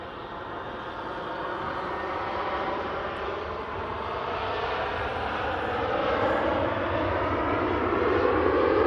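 A Jet2 Boeing 737 jet departs Manchester Airport for Barcelona, its engine roar steady and broad, slowly building in loudness over nearly nine seconds with no voices.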